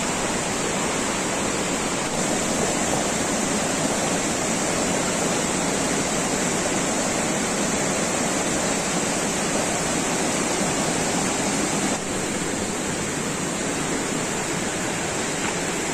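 A waterfall at Langkuik Tinggi in the West Sumatra forest pours with a steady, loud, broadband roar that holds unbroken throughout, close and continuous.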